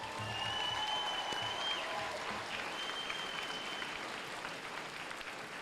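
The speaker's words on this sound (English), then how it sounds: "If you will join me in one more round of applause for these soldiers." A crowd applauds soldiers at an Army basic combat training graduation ceremony at Fort Jackson, steady dense clapping in a large outdoor venue with a few whistles and cheers over it.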